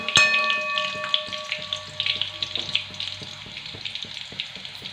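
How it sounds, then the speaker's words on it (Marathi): Chopped fresh garlic frying in a pan for a village-style green chickpea curry, a steady sizzle with clinks of a utensil stirring, close and continuous. "लसूण आपल्याला छान लाल रंगावरती परतून घ्यायचा आहे।"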